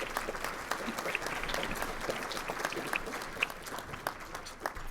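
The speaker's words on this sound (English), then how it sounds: "I'd like to give a round of applause to our pianist" Audience applause for a pianist at an alumni luncheon: a steady wash of many hands clapping at moderate volume, with scattered sharper claps standing out, sustained throughout without any talking over it.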